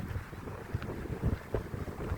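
Strong wind buffeting the microphone in gusty low rumbles, with irregular thumps and a steady blustery roar.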